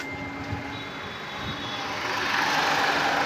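A 2023 Renault Kiger RXZ SUV engine runs steadily, heard from outside the vehicle as a faint, low drone that grows slightly louder over a few seconds, with no talking.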